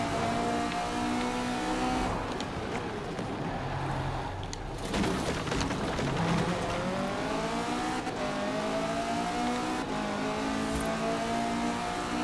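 A KTM X-BOW GT4 in the Forza Horizon 4 racing game is held at full throttle, its engine rising in pitch through successive gears with brief dips at shifts, loud and continuous against road and tire noise.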